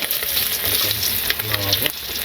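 Vegetable bhaji frying in a pan in a village kitchen on a rainy day, giving a steady, close, loud sizzle with faint stirring scrapes throughout and no talk.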